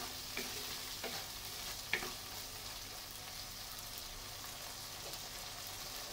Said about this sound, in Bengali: ছোলাগুলো মশলার সাথে ভালো করে নেড়ে চেড়ে মিশিয়ে দিচ্ছি।